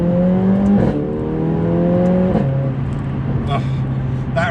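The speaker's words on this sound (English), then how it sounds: "That Remus exhaust that Motec Performance have put on this car is glorious" Mercedes A45 AMG fitted with a Remus exhaust, its engine note rising and falling in steady revs with a few sharp blips, loud and close.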